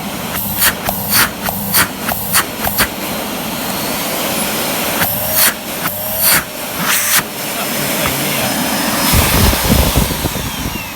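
A Miele S6220 Cat & Dog canister vacuum with weak suction and a lid that doesn't seal properly runs with a loud, steady airy roar, marked by several short bumps and thumps of handling.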